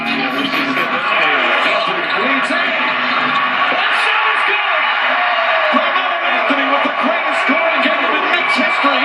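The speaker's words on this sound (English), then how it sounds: "They're going to bring him out now so he can feel the crowd, the love of the crowd for Melo." Madison Square Garden crowd cheering for Carmelo Anthony during his 61-point game, a loud, sustained roar of shouts and whoops filling the arena from start to finish.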